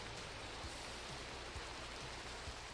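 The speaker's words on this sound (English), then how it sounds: "It's raining again." Steady rain falling in a Minecraft game world, a soft continuous hiss at low level with no talk over it.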